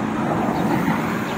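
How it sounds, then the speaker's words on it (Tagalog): Trucks pass close by on a roadside, and their engines and tyres make a loud, continuous rumbling roar with no break in it. "Pasensya na sa ingay ng mga dumadaan mga truck."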